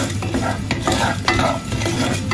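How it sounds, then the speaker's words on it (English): Peppercorns dry roasting over low heat in a pan for rasam powder, stirred steadily so the whole spice rattles and scrapes across the metal in a close, continuous dry shuffle with no talking. "Next I'll be adding peppercorns, because even that is bigger compared to other ingredients."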